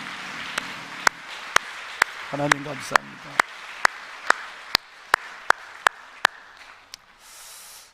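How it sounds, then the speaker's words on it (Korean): A church congregation at a Sunday service claps in steady unison, sharp evenly spaced beats about twice a second, while someone speaks briefly over the rhythm. "우리 하나님께 영광의 박수 한번 드릴까요?"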